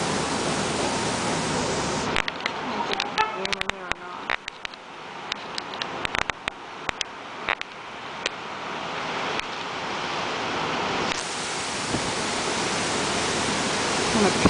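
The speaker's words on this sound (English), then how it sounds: "The water's coming up on the beach a lot more. The wind's picked up." Storm surf and strong wind on Rehoboth Beach make a loud, steady roaring wash close by, broken midway by bursts of wind buffeting the microphone and sharp crackles before the full roar returns.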